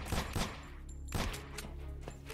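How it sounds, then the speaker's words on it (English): Gunfire from a gun in the horror action game Antarctica 88: a few loud, sharp broadband shots, one near the start and another around the middle, each with a ringing tail over a steady low game drone. "Let's kill it with gun."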